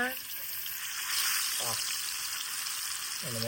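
Hot oil for a fish curry with green mango hisses and sizzles steadily in a pan throughout, with brief voices breaking in now and then.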